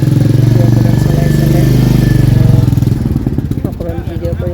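A new Royal Enfield Bullet motorcycle thumps along nearby in a steady loud rhythm, then drops off toward the end as a person starts speaking over it.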